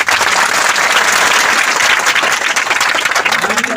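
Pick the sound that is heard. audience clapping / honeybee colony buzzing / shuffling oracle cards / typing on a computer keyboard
audience clapping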